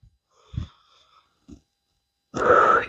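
Deep exhale after a dumbbell workout, heard as a few short breaths followed by one long, loud, rushing breath close to the mic, with no talking.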